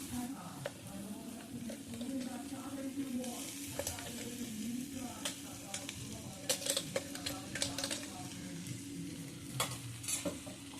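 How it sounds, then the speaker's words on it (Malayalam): Ground coconut paste with cumin, garlic, chilli powder and turmeric stirred in a frying pan for a flower thoran, a steady soft sizzle with scattered spoon scrapes and taps close by, alone throughout. "നന്നായിട്ട് ഇളക്കി കൊടുക്കാം."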